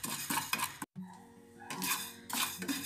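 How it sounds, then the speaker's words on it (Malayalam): Raw rice is dry-roasted in a pan for a Kerala puli inji, a metal spoon scraping and clinking against the pan in short stirring strokes, close and soft, with a brief pause midway. "ഈ അരി ഒന്ന് വറുത്തെടുക്കണം"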